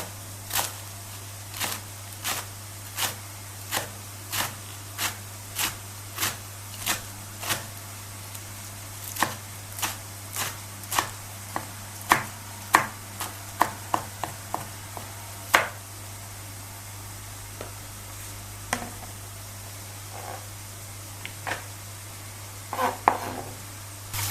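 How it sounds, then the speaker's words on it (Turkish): A knife finely chops spinach on a cutting board, a run of sharp, evenly spaced taps that later quickens into faster bursts, over a constant low hum. "ıspanaklarımı ince ince doğrayıp derin bir kaba alacağım."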